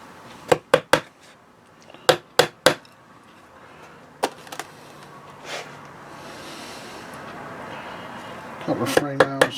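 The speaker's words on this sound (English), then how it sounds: "then need to add some frame nails" Hammer tapping frame nails into a wooden Langstroth beehive frame held in a jig, sharp close knocks in quick pairs and small clusters with pauses, ending in a rapid burst of several blows.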